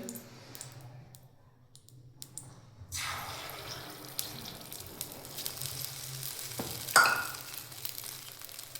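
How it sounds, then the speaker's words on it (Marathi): Raw beaten egg poured into hot oil in a heated bowl-shaped pan sets off a steady close sizzle that swells and then crackles on, with no voices over it. "आता आपण कच्चा अंडा टाकतोय."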